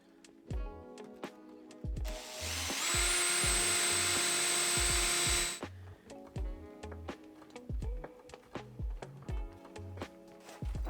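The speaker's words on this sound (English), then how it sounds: "I'm drilling first hole, then sticking the brass rod just to make sure nothing gonna move." A drill bores the first hole for a brass rod in a wooden rolling top box, one sustained loud whirring run of about three seconds, up close, set against steady background music.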